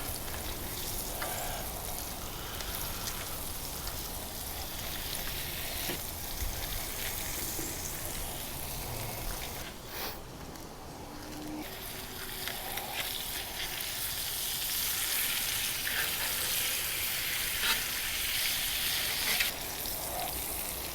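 Bacon pieces and burger patties frying together in a pan give a continuous crackling sizzle like light rain, steady and fairly close throughout.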